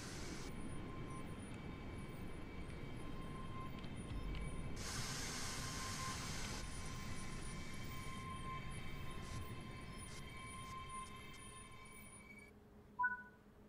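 A Scottish passenger train in the Train Sim World 4 game rolls along a platform near Edinburgh and Glasgow, a steady rumbling hum with a hissing burst midway, ending in a clunk and sudden silence.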